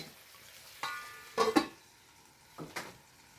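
A metal pot lid is set down and closed over jackfruit biryani on the stove, with a few sharp clattering clinks in quick bursts and quiet pauses between them.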